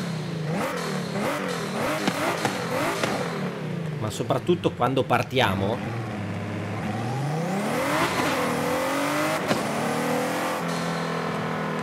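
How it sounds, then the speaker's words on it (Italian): A Ford GT sports car with over 900 horsepower revs and accelerates with rising turbo whine and bursts of sharp pops, while someone talks over the engine noise. "Vi devo far sentire bene bene il sound del turbo di questa macchina"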